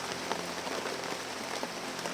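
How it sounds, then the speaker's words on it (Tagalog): Steady rain falls on a surface nearby, an even patter of many drops with no voices. "Yan, umulan na naman."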